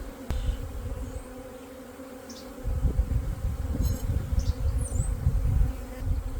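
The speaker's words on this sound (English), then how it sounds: "Now this box has a lot of bees that I'm going to need to whack." Honey bees buzz steadily around a nucleus colony box, a dense, close hum that swells louder after the first couple of seconds and holds with no talking.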